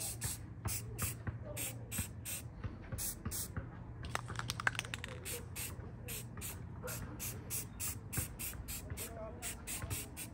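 A rattle can sprays paint onto a rifle in short, repeated hissing bursts with a steady rhythm, close but fairly quiet, with a low hum in the background.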